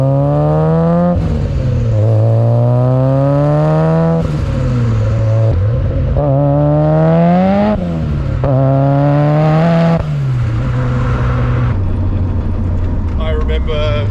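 A 660-horsepower Nissan 180SX with a 2.35-litre Tomei billet stroker engine, Garrett GT35 turbo and 4-inch K&N intake, loud and close as it repeatedly revs up through the gears and drops back, with a steady droning engine note throughout.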